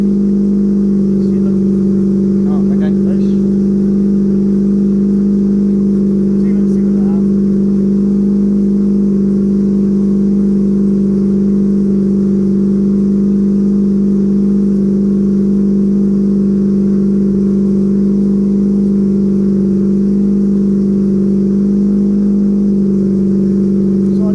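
A 12A turbo rotary engine in a Datsun 1200 drones loudly and steadily at a held rev, close and unbroken throughout, with a buzzy, even hum and no voices.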